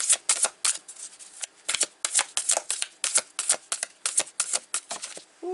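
Moonology oracle cards being shuffled by hand, a close, crisp series of riffling bursts in an uneven rhythm with brief pauses, no voices.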